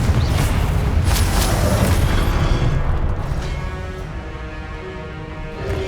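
The Confringo explosion spell goes off in Hogwarts Legacy as a loud, booming blast with crackling bursts, fading into a lingering rumble.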